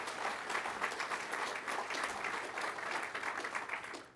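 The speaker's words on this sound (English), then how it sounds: "please, a round of applause for our support personnel" An audience at an Undergraduate Pilot Training graduation applauds support personnel, a steady, fairly distant wash of many clapping hands lasting a few seconds.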